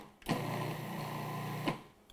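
A food processor pulses a cheesecake crust mixture in one short burst, with a steady buzzing whir that starts abruptly and stops about a second and a half later.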